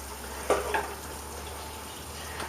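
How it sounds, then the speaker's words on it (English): Melting fat crackles and sizzles softly in a frying pan, with a steady hiss and a couple of brief louder pops near the start. "we'll just melt that in our frying pan"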